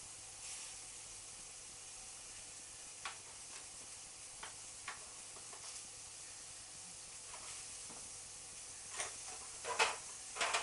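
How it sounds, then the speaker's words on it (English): Mushrooms cook in a pan with a soft, steady sizzle and hiss, broken by a few brief crackles and pops that grow busier near the end; fairly quiet and close, with no talking. "While the mushrooms are cooking in the pan, we're going to assemble this."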